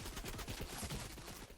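Rapid gunfire in a Fortnite solos match, a quick faint burst of repeated shots lasting under two seconds.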